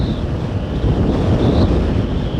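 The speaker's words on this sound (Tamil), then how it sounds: "விண்ட் பிளாஸ்ட்டும் ரொம்ப இருக்குதுங்க இன்றைக்கின்னு பார்த்து" Heavy wind blasts against the microphone while riding an Apache 160 motorcycle on a highway bypass, a loud continuous low buffeting roar with faint engine whine beneath, no talking.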